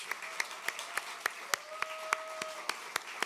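Applause from an audience at the close of a live evening of author talks, a steady patter of many hands clapping with sharp individual claps standing out, moderately near and sustained throughout.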